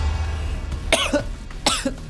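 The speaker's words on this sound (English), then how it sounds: "Apparently I was scared into coughing" Two sharp coughs from one person, about three-quarters of a second apart, close and fairly loud over a low background hum.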